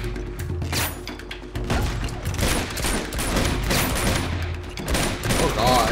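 Dense gunfire and heavy impacts in Uncharted 2: Among Thieves, with rapid overlapping shots and bursts continuing loudly throughout.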